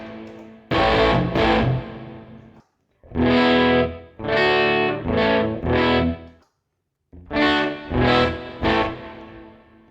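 Electric guitar run through a HeadRush effects scene with heavy distortion, playing loud bursts of chords and notes in three separate phrases with short silent gaps between them.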